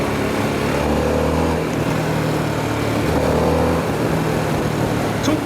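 A Harley-Davidson Sportster S motorcycle rides on a city expressway at night, its loud engine a steady, close rumble that swells slightly as it pulls, mixed with constant wind rush.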